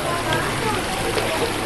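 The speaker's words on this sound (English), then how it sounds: "it is an authentic babbling brook. And there it is, babbling away" A natural babbling brook in a park in northwestern New Jersey, heard as a steady, close wash of flowing water that fills the whole stretch without pause.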